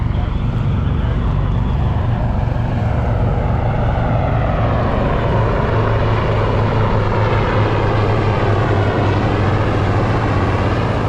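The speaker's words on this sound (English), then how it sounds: "Flyover, baby." A propeller airplane flies over a skiff on the water off La Jolla, its steady engine drone loud and continuous throughout, with a faint voice mixed in.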